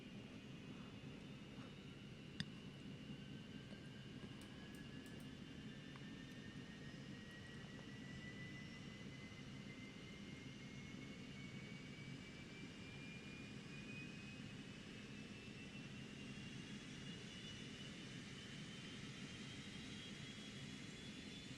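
In X-Plane 11, the engine of a Cessna Citation 510 Mustang jet spools up during start, a faint, steady whine rising slowly in pitch over a constant airy hum, with one brief click early on.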